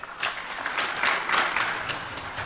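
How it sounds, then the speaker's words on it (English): Audience applause at an extraordinary Siaya County government meeting on nuclear power, a steady spread of clapping from a seated crowd lasting a few seconds at moderate loudness, with no speech over it. "Will we clap for them?"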